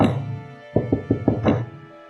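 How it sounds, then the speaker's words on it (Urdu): A door is knocked on as an audiobook sound effect, five distinct wooden raps in an uneven rhythm, close and fairly loud, following a brief bell-like tone at the start. "پھر دروازہ کھٹکا۔"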